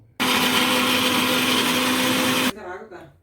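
A mixer grinder runs loud and steady for about two seconds while grinding sambar masala for vegetable sambar, then cuts off abruptly as a voice speaks quietly afterward.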